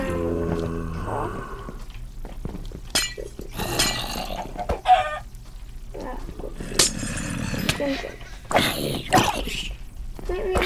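Chickens cluck in the block-building video game Minecraft, short scattered bursts mixed with other game sounds and sharp clicks, fairly quiet overall, with a few louder spikes.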